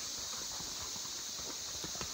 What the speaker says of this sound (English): Horseback riding in the jungle.